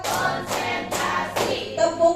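A group claps together in a steady rhythm as an ice-breaking game at a school teachers' training session: four loud, evenly spaced claps, then a brief ringing tone.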